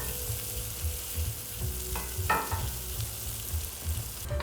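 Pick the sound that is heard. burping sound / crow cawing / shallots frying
shallots frying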